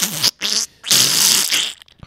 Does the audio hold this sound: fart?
yes